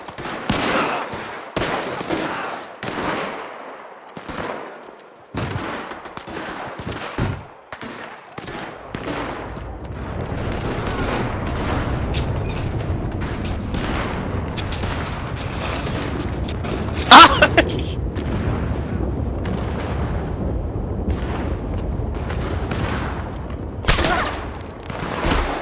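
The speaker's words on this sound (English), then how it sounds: "Now everybody's shooting each other." Gunfire in Red Dead Redemption 2 Online, scattered sharp shots cracking near and far, then a dense continuous rattle of many guns under a loud background din, with a few louder bangs standing out.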